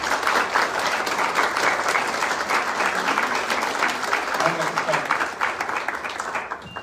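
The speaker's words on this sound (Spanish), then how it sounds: "Un aplauso, por favor, para Jardiel" Sustained audience applause at an ALS awareness day event in Mexico, many hands clapping steadily and fairly loudly across the whole stretch, with some crowd murmur mixed in.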